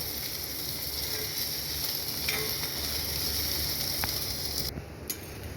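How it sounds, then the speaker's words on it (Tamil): Urad dal and spices fry in a pan over medium-low flame, giving a continuous, even sizzle close up with a couple of faint clinks of a utensil and no speech. "இதை கொஞ்சம் ஃப்ரை பண்ணலாம்"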